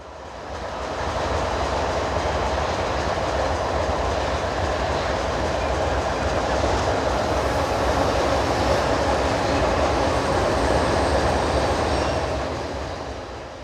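A train led by a GE C40-8M diesel locomotive built in 1990 rumbles past steadily for over ten seconds, a dense roar with faint wheel clatter, fading in at the start and out at the end.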